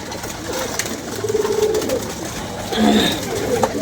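Pigeons coo softly amid rooftop ambience, a few low throaty calls at moderate distance over steady background noise and faint wind.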